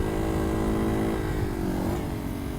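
A Yamaha XT225 dual-sport motorcycle engine drones steadily while riding on dirt in third gear, close and fairly loud, with a slight shift in pitch near the end.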